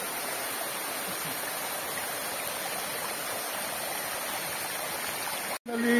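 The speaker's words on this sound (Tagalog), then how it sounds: "Narating na natin ang Lambingan Falls." Waterfall at Lambingan Falls in Mt. Guiting-Guiting Nature Park on Sibuyan Island, a steady broadband roar of falling water filling the whole clip, loud and close, with a brief dropout near the end.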